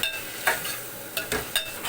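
Tomato pieces frying in a curry pan, with a steady sizzle broken by several distinct scraping stir strokes at an unhurried rhythm, close and fairly soft.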